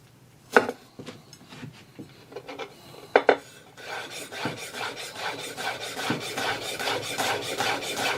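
An imarku chef knife minces food on a cutting board, first with scattered sharp taps, then with a fast, steady rasping chop that builds in loudness up close.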